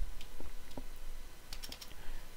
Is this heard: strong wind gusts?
no